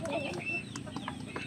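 Turkeys and chickens in a pen make a faint, scattered jumble of clucks and short calls, with someone speaking over the noise.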